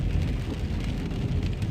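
Rain falls on a car, a dense steady patter and low rumble heard from inside the vehicle, close and continuous with no talking.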